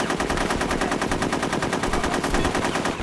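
Rapid, continuous automatic gunfire from guns in a rail shooter video game, dense and loud with a tinny, thin character, rattling without pause for the whole stretch.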